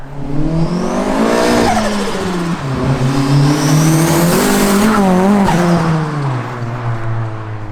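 An old turbocharged Mitsubishi Lancer revs hard as it drives past, the engine climbing and falling through gears with a loud, rising and dipping roar and a brief tire squeal, heard close with no talking.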